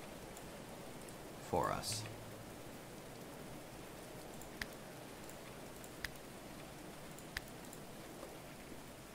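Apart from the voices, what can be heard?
rain in the video game Going Medieval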